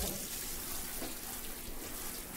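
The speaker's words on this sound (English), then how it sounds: "you want to run some cold water on these" Cold tap water runs in a steady, soft hiss over drained cooked pasta shells in a kitchen sink, continuous and fairly quiet, with no talking.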